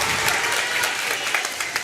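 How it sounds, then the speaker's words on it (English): Crowd at a girls' high school basketball game applauding and cheering after the game-ending shot, a steady, dense wash of clapping filling the gym with scattered louder claps throughout. "And listen to this crowd"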